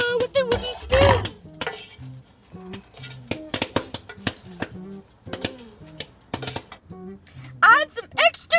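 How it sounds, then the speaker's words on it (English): A wooden spoon stirring kettle corn in a pot, close scraping and knocking strokes in an irregular rhythm, with occasional clinks and a voice speaking over parts of it. "Turn off the heat and stir with the wooden spoon"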